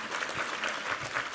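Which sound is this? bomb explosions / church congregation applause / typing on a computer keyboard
church congregation applause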